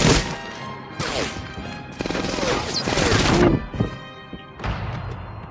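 Mounted machine gun in Medal of Honor: Airborne firing in loud, harsh bursts at close range, with several separate volleys broken by short pauses and a voice talking between them.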